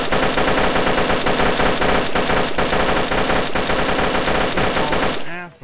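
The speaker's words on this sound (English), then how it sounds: "Somebody just popped off a whole 75-round drum" A long, unbroken burst of automatic gunfire from a 75-round drum magazine in the video game DayZ, loud and relentless, with rapid evenly spaced shots that cut off abruptly at the end.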